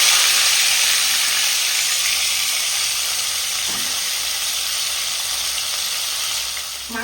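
Pieces of bhola fish frying in hot oil make a loud, steady, close sizzling hiss that runs without a break and fades slightly toward the end, no talking.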